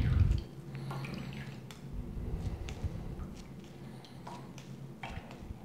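Water drains from soaked bulgur wheat poured through a sieve in a home kitchen, giving a soft trickle and scattered drips close by.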